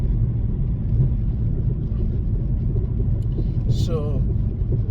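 A Kia car being driven on the road, with a steady loud rumble of engine and road noise throughout and a brief higher whine near the end.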